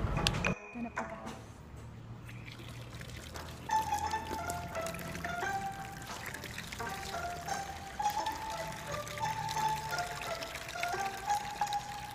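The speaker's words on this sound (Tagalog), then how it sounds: "Lalagyan na po natin ng tubig." Water being poured into a container, a splashing stream followed by a rising, ringing fill with bright gurgling tones.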